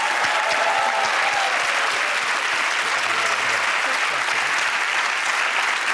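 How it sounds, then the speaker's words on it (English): A studio audience on a darts game show applauds loudly and steadily, a dense continuous wash of clapping that holds from start to finish. "Some lovely applause there for you, Bobby."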